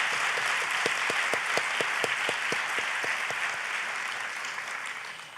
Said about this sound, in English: if we could just give them a round of applause and thank them for their work